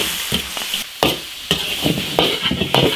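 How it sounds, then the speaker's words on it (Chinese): Fish tossed in a wok with seasonings, soy sauce and dark vinegar, fried and then stir-fried, gives loud close sizzling broken by sharp repeated scrapes and clatters of the spatula at an irregular rhythm. "这样炒一下就可以了。"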